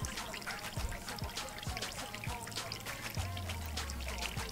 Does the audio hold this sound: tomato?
no